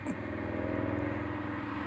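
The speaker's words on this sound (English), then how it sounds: "Just a loud car." A loud car passes along a roadside strip, its low engine rumble steady and fairly close throughout the short stretch, with no talk over it.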